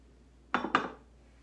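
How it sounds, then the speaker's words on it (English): A wire whisk strikes a mixing bowl while stirring a Thanksgiving side dish, giving two quick, close metallic clinks in fast succession against a quiet room. "I'm gonna use my whisk"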